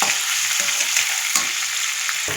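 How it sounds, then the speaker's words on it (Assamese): Fish frying in a small amount of oil with turmeric, a steady close sizzle with a few stirring scrapes of a spatula in the pan. "মাছখিনি ধুনীয়াকৈ ফ্ৰাই কৰি ল'ম তেলত মই হালধি দি দিছোঁ"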